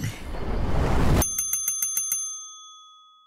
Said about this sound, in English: Is that like the bell at the front desk bell, or is that just the floor bell?